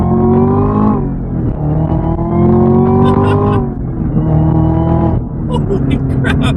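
Supercharged 2018 Chevrolet Camaro ZL1 accelerating hard through several gears, a loud rising engine roar that drops at each shift, heard from inside the car with excited voices over it.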